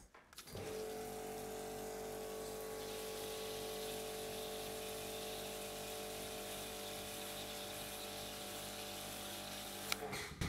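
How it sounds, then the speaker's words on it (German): A high-pressure washer sprays a heavy stream of water onto a car's sealed paint, a steady loud hiss and motor drone running continuously for about ten seconds, with no talking. "Und jetzt können wir mal schauen, wie sieht es aus mit einer höheren Wassermenge,"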